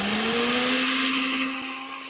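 A nut milk maker runs on its boil setting with a steady, loud motor whine holding one pitch, fading slightly toward the end, with no voices.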